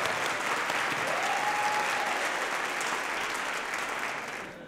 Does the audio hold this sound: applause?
yes